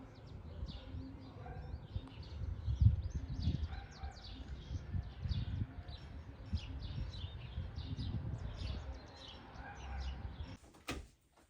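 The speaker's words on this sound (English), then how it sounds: "Look at all those chickens." Chickens cluck faintly in short, scattered calls over a low outdoor rumble, ending with a brief clatter.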